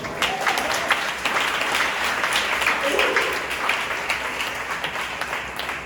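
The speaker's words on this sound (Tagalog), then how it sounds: "Dapat may kasama palakpak yan" Congregation applauding inside a chapel during a preaching service, a steady wash of clapping held at even loudness for several seconds, with voices mixed in under it.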